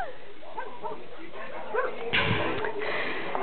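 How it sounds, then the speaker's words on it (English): Dogs in a backyard giving a few yips and whimpering barks at moderate distance, with a burst of louder rustling activity near the end. "This is our backyard with our dogs."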